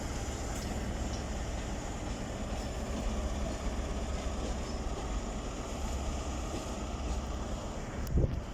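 Train with power car 43238, nicknamed the Tomato, at Nottingham station, a steady broad rumble of the moving rolling stock with wind buffeting the microphone, continuous and fairly close, ending in a brief low thump.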